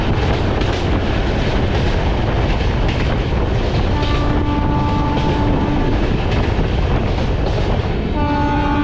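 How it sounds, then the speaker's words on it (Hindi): The Mahabodhi Express passenger train runs on the rails with a loud, continuous rumble and rattling wheels from on board, while sustained horn-like tones sound partway through and again at the end. "चलिए दोस्तों ट्रेन अपनी पहुंच चुके हैं एक और रेलवे स्टेशन यानी डिहरी ऑनसोन"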